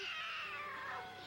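A cat lets out a single drawn-out, whiny meow that slides downward at the end, close and fairly loud with no talking over it.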